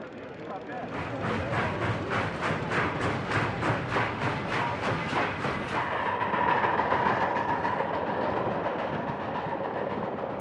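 A train rumbles along the rails with a rhythmic clickety-clack of wheels, steady and fairly close, as a voice talks over it.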